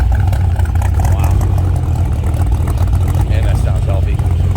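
A classic American pickup, a 1965 Chevrolet Stepside or 1967 Ford F150, runs with a deep, loud engine rumble close by, while someone talks over it.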